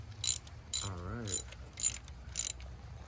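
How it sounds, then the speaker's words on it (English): A 5/8 socket wrench ratchets a spark plug loose on a Nissan 300ZX Z31, giving five sharp, evenly spaced bursts of metallic clicking up close, with a brief squeaky whine partway through. "now I just unscrew until it pops out"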